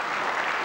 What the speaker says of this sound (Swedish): Jag har redan lärt att man ska applådera.